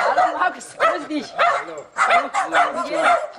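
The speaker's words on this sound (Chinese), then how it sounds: "看这两个小狗很好" Two small dogs bark and yip in quick repeated bursts during a home visit in Germany, close by and fairly loud, with voices nearby.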